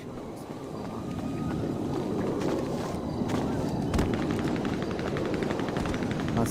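Gunfire rattles through a video game roleplay as a dense, continuous roar of noise, with rapid bursts of shots growing more distinct toward the end.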